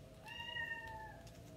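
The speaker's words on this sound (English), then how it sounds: "That's my cat." A cat meows once, a drawn-out, rising-then-falling call heard clearly and fairly close over a quiet room background.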